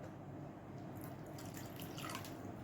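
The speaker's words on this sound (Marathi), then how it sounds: "यात मी अगदी थोडंसं पाणी ओतणार आहे" Quiet splashing of hot water being poured into a pan of paneer curry, a brief trickle that starts partway through over a faint steady background hiss.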